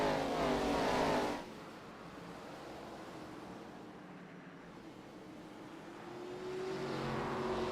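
ARCA-style stock cars roar around the Martinsville short track in iRacing. A loud pack rush opens, drops to a distant, washy drone, then swells again as the cars return.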